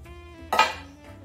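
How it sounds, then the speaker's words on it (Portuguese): A spoon scrapes and clinks against a bowl of batter in one short burst, close up, with a faint steady hum underneath. "E mexe."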